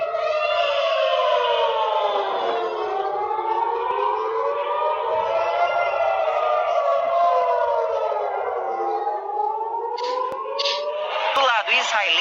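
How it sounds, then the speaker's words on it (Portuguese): Air raid siren wailing in Israel, its loud rising and falling tone sweeping up and down continuously for the whole stretch, with a faint background murmur and a few sharp knocks near the end. "A sirene é uma coisa, assim, muito forte."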